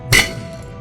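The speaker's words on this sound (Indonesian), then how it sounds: "Saya akan hancurkan juga piring ini dengan palu." A hammer strikes and smashes a ceramic plate in one sharp, loud crack with a short ringing clink of breaking pieces that fades quickly.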